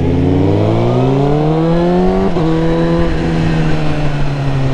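Suzuki GSXR1000 sport bike engine revving loud and close, its pitch climbing steadily as it accelerates, then holding at a high, steady whine.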